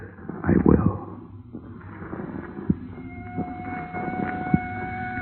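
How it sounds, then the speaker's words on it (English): Police car sirens wailing out in the country, heard beneath a scene of people talking, the rising and falling tones drawn out and moderately distant, growing steadier toward the end. "What is there about police drivers? Even out in the country, they got to lay on those sirens."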